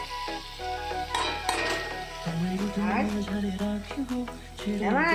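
Bottle gourd, potato and dried fish frying in a pan with green chillies, a steady sizzle under occasional stirring and clinks of utensil against the pan, with a voice speaking over it.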